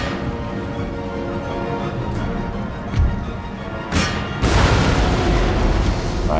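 Cannon and musket fire from a Total War: Empire battle with Russian forces, a few booming blasts spaced out over a steady rumbling battlefield din that swells louder toward the end.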